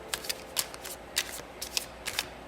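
A deck of tarot reading cards is shuffled close up, a series of crisp riffling bursts at an uneven rhythm, fairly loud and with no talk.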